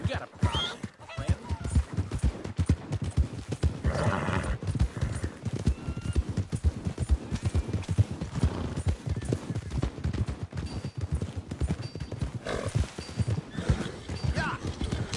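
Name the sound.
horse hooves clip-clopping in video game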